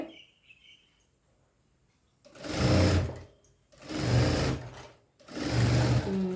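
A sewing machine stitches lining into a blouse in three sustained bursts of loud, steady whirring, each separated by short pauses, with no voices.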